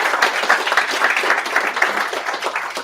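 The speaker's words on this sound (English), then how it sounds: "round of applause for Angus" Applause from a small audience at a Sydney serverless tech meetup, a fairly close, lively burst of clapping with audible individual claps that carries on for a few seconds.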